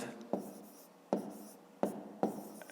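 Numbers are written by hand during a fifth-grade math exercise, four sharp pen or chalk taps spaced unevenly, each followed by a short scratch, fairly quiet and close.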